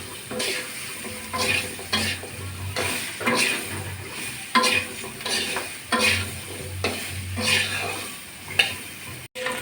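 Vegetable stalks fry with a little turmeric for a light rohu fish and potato curry, giving a continuous close sizzle with repeated rhythmic scraping and stirring strokes of a utensil against the pan.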